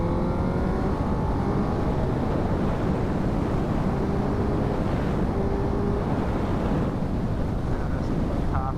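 A 2006 Suzuki GSX-R1000 K6 sport motorcycle on a road test ride gives a steady, loud engine roar mixed with heavy wind rush, continuous with no break.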